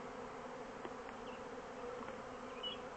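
A swarm of honey bees buzzing outdoors, a steady faint droning hum of many insects with a few individual bees passing close.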